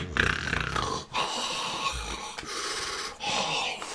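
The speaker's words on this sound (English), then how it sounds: "That's me snoring like a pig." Loud, rough snoring close by, several rattling snorts with brief pauses between breaths, no speech.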